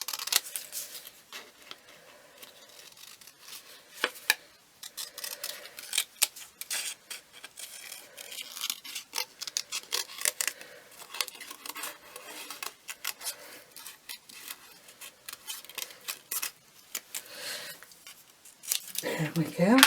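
Scissors snip through paper in a crafting session, a series of crisp, irregular cuts and rustles close to the mic, with someone talking over much of it.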